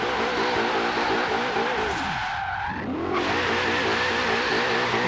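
Cheap car accelerating in Forza Horizon 3, a steady loud engine drone rising in pitch through the gears, with a brief dip at a gear shift and tire noise underneath.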